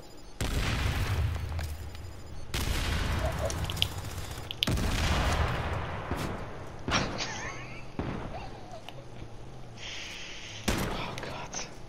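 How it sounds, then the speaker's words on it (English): A grenade blows up in the video game Last Blood, loud booming bursts sounding repeatedly through the clip, while players talk excitedly over the game audio. "Oh, grenade!"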